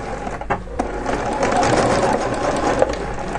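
A sewing machine stitching a dress seam along a marked line with a stitch length of 3.2, giving a steady, close, continuous mechanical whir and rattle that runs the whole time without speech.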